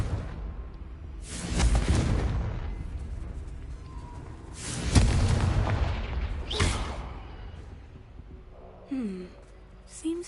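Explosive blasts from the Confringo spell in Hogwarts Legacy on PS5, three heavy booming bursts a few seconds apart, each with a whooshing decay, followed by a short swooping tone near the end.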